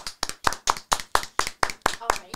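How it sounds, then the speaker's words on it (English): Rhythmic, close clapping in a steady beat, about ten evenly spaced claps from a studio audience welcoming a guest to a podcast. "Please give a warm round of applause with all your wettest tentacles to my girl, Julia Mervis."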